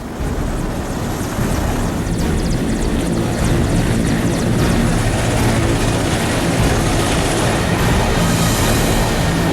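A steady, loud rotor-and-engine drone of an army helicopter airlifting troops to Rohtak fills the whole stretch, continuous and close, with no voices.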